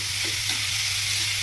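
Finely chopped onions frying in a pan with oil during prawn curry preparation, a steady close hiss and sizzle with faint stirring and no speech.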